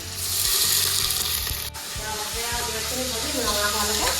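Onions sizzle and fry loudly in hot oil for pulao, a steady dense crackle with stirring throughout and a brief dip midway, with voices talking faintly underneath.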